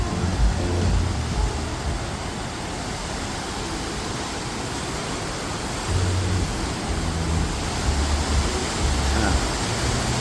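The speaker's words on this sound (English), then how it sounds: "A nice little creek right there. With the waterfalls over here." Steady broadband rush of small waterfalls spilling into a little creek, heard outdoors on an early morning walk by Wynn's waterfalls on the Las Vegas Strip, a constant close wash with faint low rumbles underneath.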